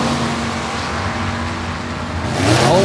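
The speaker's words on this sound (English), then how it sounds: "is going to bring that 37 Chevy Coupe up for a stroll down the Redemption Motorsports side of the racetrack" Supercharged 383 Chevy V8 in a home-built 1937 Chevy Coupe drag car at a dragway, a loud steady engine roar that swells near the end.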